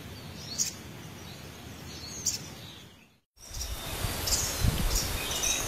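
Sogok ontong birds call near a lure in outdoor undergrowth, giving a few faint, brief chirps over a steady insect drone, with a short gap midway before the chirping resumes slightly louder.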